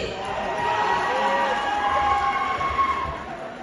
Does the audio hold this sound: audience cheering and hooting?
yes